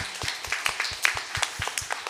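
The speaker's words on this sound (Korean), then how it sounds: "우리 목자님들께 한번 감사하다는 박수로 우리 한번 인사하겠습니다" A youth worship congregation applauds to thank its small-group leaders. Steady, fairly even clapping from a modest group fills the whole stretch, with no talking.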